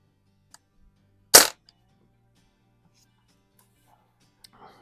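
A single sharp report from a Diana Chaser air pistol fitted with a Buck Rail, fired while plinking in a garage, stands out loud and close against an otherwise quiet room, with a faint click afterward.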